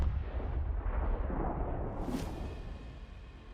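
A HIMARS missile strike on Russian positions lands as a heavy, rumbling blast with a sharp crack near the middle, followed by fading low reverberation.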